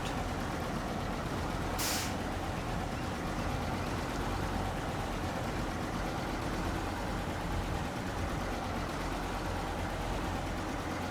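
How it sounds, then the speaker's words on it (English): A steady low truck engine drones throughout, with a single short hiss of air brakes releasing early on, from the Mercer R230 truck in the video game SnowRunner. "The engine noises and the air compressor, or the... what's it, the brakes?"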